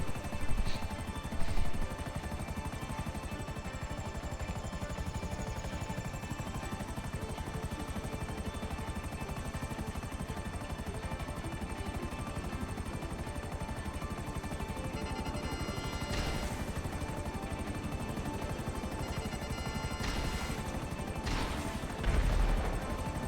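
Fighter jets roaring overhead in the video game GTA, a steady loud engine drone with bursts of gunfire and occasional crashing impacts near the end, continuous with no speech.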